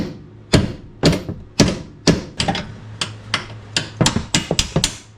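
A 3-pound mini sledge hammer strikes a bolt during BMW X5 suspension work, about fifteen sharp metallic blows, close and loud, coming in uneven bursts that quicken toward the end.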